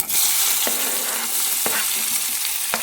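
Cumin seeds and raw onion sizzling loudly in hot oil with bay leaf, a steady close frying hiss broken by three or four sharp scraping stirs of a spatula.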